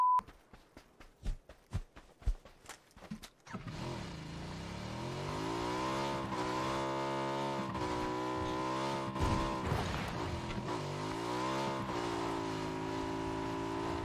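Motorbike engine in the PUBG shooter game, starting up after a few sharp clicks and then revving steadily, its pitch rising and falling as it accelerates, close and continuous for about ten seconds.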